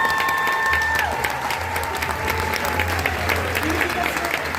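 Steady audience applause for experience designers at a graduation ceremony, a dense, even clapping wash with a low hum underneath and a brief tone near the start.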